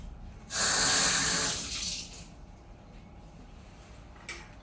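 Running water briefly washes over an avocado, a strong hiss of about one and a half seconds that fades, then a quiet room with a faint clink near the end.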